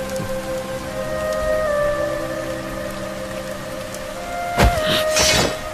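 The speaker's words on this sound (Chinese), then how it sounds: "竹林天降大雨" Heavy rain falls on a bamboo forest in a continuous hiss under sustained musical tones, with a sudden sharp crash near the end.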